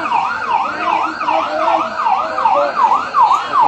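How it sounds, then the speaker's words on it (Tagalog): A fire truck's siren wails in rapid, repeating up-and-down sweeps, loud and close, arriving at a blaze in New Antipolo, Tondo, Manila, with no voices over it. "May dumating pa na bumbero"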